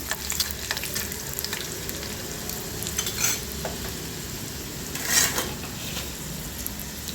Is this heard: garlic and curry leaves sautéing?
yes